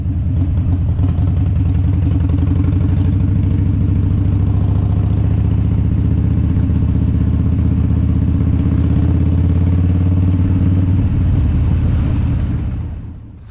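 A group of about 23 motorcycles, some carrying pillion passengers, rides past on a sunny autumn road trip to Puhoi. A loud, continuous engine roar holds steady, then fades at the end.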